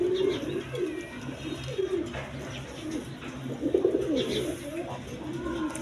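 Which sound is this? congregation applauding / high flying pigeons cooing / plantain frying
high flying pigeons cooing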